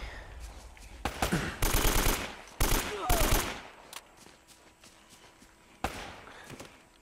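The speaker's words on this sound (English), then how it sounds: "So I'm burning through the AK-47 bullets." Rapid AK-47 bursts in Uncharted: Drake's Fortune fire in several loud, dense volleys separated by short gaps, followed by quieter scattered shots and one last sharp report.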